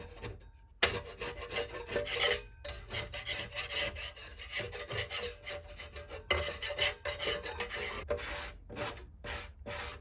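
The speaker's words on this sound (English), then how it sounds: "Use our sanding block to fine tune the edges as well." Steady rasping scrape of a sanding block rubbing back and forth across drywall, close and continuous with a few brief pauses.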